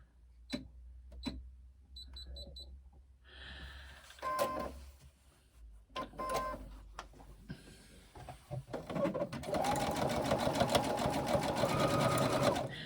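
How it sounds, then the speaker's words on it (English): A sewing machine runs zigzag stitches along all four sides of a piece of fabric, starting in short stop-start bursts and settling into a steady, fast whirring and clatter, close and alone. "We are now going to use a zigzag stitch, and we are going to attach this all the way around on all 4 sides."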